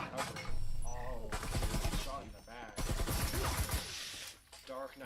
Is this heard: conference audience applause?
no